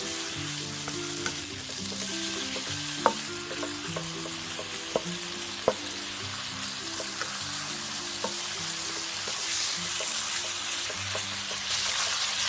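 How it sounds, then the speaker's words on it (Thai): Beef dry-roasting in a pan with continuous close sizzling and crackling, stirred steadily, with occasional sharp clicks of a utensil against the pan and no talking. "เราก็คั่วเนื้อไปเรื่อยๆนะครับ"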